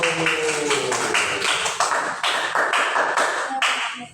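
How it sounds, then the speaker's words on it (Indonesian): Students in a classroom clap for the first group, a close, loud burst of sharp, fairly rhythmic claps from a small group that goes on for about four seconds and then stops. "Beri tepuk tangan untuk kelompok 1"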